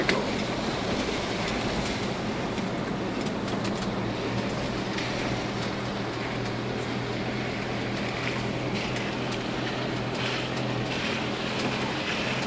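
An off-road vehicle engine ticks over steadily on a Highland safari drive, a continuous low rumble with broadband road and wind noise running evenly throughout, loud and close, with no voices.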